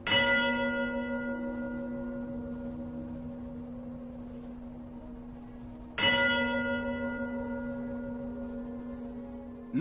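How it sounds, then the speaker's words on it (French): A single church bell strikes twice, about six seconds apart. Each loud, clear stroke leaves a long, humming ring that slowly fades. "lorsque les cloches sonnaient dans les structures"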